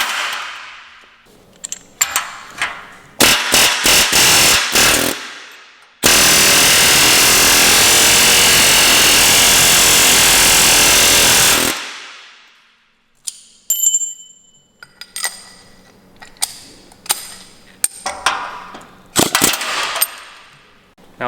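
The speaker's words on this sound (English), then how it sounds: "we'll take our punch bit, put that into our chisel or our air hammer" An air hammer fitted with a punch bit drives rivets out of a Squarebody truck frame crossmember. Loud rapid bursts of hammering come in several close runs with a long sustained pneumatic blast in the middle, and sharp metallic knocks follow.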